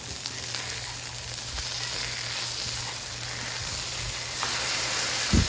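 Patty melts sizzle and fry on a Blackstone griddle right after being flipped, a steady close hiss with a few faint scrapes and clicks and no one speaking.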